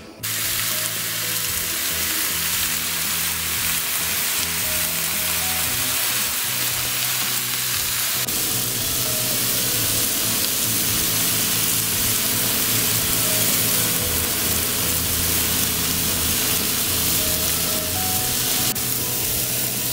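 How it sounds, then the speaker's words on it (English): Meat sears on a preheated cast iron griddle with a loud, continuous sizzle and hiss that holds for twenty seconds, and its tone shifts partway through. "So I'm preheating my cast iron griddle, and I'm going to sear them all on here."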